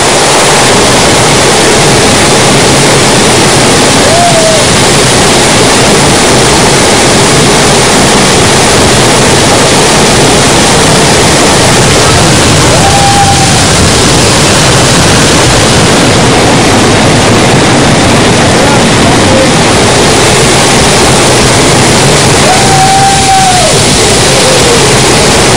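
A waterfall pours onto a big rock at its base in a river in Asahan, a loud, steady broadband roar that fills the whole stretch without a break, with a few faint shouts from people far off.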